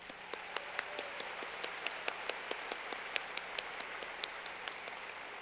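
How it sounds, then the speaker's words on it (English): Audience applause fills a commencement ceremony hall, a steady wash of many hands clapping with sharper individual claps popping out regularly, sustained and even throughout. "Let's give them all a round of applause."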